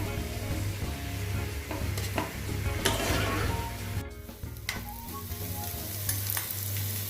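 Onions sauté in a pan for butter chicken with a loud, continuous sizzle, broken by scraping stirs and a steady low hum underneath, with no talking.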